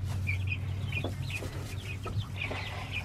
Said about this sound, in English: This is a silver-laced Wyandotte.